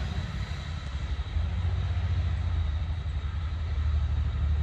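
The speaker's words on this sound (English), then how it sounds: "Something is dying out on the road. Some truck or something." A loud truck rumbles past on a road outside, a continuous heavy low engine roar that swells and holds steady, with no voices.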